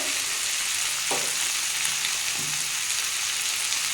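Fish head frying in hot oil in a pan with cumin powder, for a bitter gourd charchhodi, gives a steady, close, bright sizzle with a couple of soft stirring knocks and no talking.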